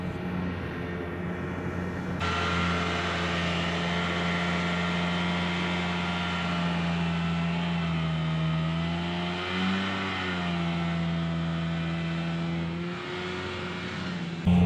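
A small two-stroke, two-cylinder mini tank engine grinds up a hill in low gear off-road, its steady, loud drone holding a buzzing tone that sags and rises slightly in pitch partway through.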